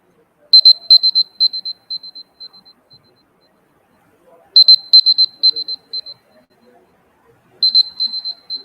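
A buzzer signalling that presentation time is up at a social entrepreneurship challenge panel sounds in three separate bursts of rapid, bright ringing pulses. Each burst fades toward its end, with quiet gaps between them.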